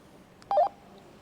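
A short electronic two-tone walkie-talkie call beep, loud and brief, rising out of quiet static and fading back to faint hiss.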